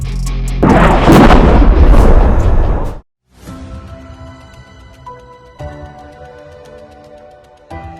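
Artillery fire near Bakhmut comes as a heavy, loud, rumbling boom that lasts a couple of seconds and cuts off abruptly. Quieter distant thuds and ringing noise follow.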